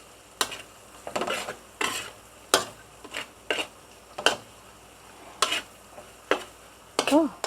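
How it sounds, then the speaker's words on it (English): Pineapple chicken is stir-fried in a pan: a spatula scrapes in about a dozen brisk strokes over a steady sizzle, close and lively, with a short voice near the end. "Continue to stir fry."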